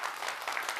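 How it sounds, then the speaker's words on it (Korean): A brief burst of audience applause at a talk by the founder of Yeongcheol Burger near Korea University in Anam-dong, a soft, even patter of many hands heard from a distance. "박수 좀 한번 쳐주십시오."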